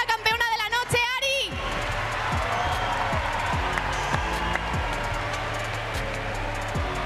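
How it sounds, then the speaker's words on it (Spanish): A large arena crowd roars and cheers for a female boxing champion at an evening fight event, a dense sustained wall of sound with a brief voice at the start and scattered shouts rising through it. "Una ovación enorme para la segunda campeona de la noche"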